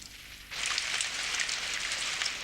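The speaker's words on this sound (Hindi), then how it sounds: "बरसात हो रही है।" Steady rain begins about half a second in, a dense broadband hiss of falling drops that holds evenly to the end, loud and close, with no talk.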